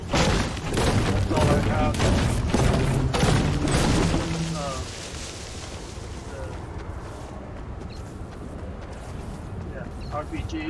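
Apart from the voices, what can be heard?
gunfire in a zombie shooter video game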